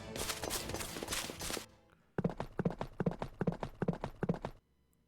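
Hooves of a horse pulling a cart in a video game clip-clop in a quick, steady rhythm after a burst of busier sound, then stop abruptly.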